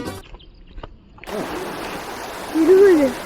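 A flooded river flows as a steady broadband rush of water that swells louder partway through, while people talk nearby over the noise.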